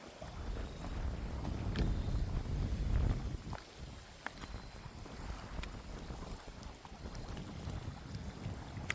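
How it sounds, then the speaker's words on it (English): Steady, gusty wind roars outdoors by a lake throughout, buffeting the microphone with low rumbling noise and a few faint clicks and rustles. "It was still windy over here."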